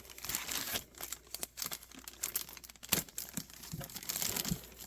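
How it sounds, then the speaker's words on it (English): Plastic packaging crinkling and tearing as a Sony Mavica FD100 digital camera is unwrapped, with busy, irregular crackles and rustles close to the microphone throughout. "I know how hard it is to watch somebody else struggle with packaging like this"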